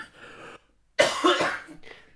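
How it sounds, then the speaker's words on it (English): A man coughs in a harsh burst after a short pause, a couple of rough, loud coughs close to the microphone. "My dad's at the back of the camera as well. Yeah, coughing away."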